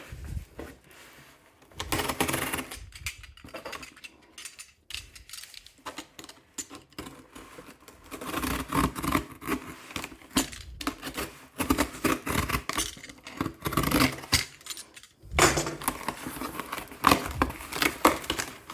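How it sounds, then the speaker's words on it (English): A DHL package holding Adidas Breaknet sneakers is opened, with irregular rustling, tearing and crinkling of packaging at close range, pausing briefly and then continuing in busy bursts, with no talk. "So today it's arrived to my home via DHL. So now I'm going to unbox it."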